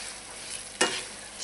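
Food sautéing in a pan over high heat gives a soft, steady sizzle with a brief louder stir or scrape partway through, close by and without talk.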